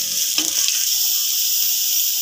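About two medium onions browning in ghee in a pot, giving an even bright hiss of sizzling with a couple of soft stirring clinks early on, close and steady throughout.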